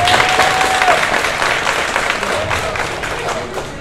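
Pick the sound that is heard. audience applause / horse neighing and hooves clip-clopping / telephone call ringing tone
audience applause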